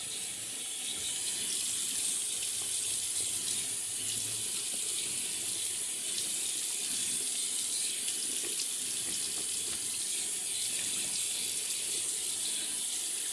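Steady running tap water pours into a sink while someone wets the face before shaving, a constant close hiss and splash without pause for the whole stretch.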